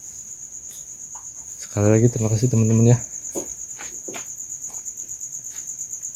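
Crickets on a cricket farm chirp steadily throughout, a continuous high trilling with scattered closer chirps, while someone talks briefly in the middle.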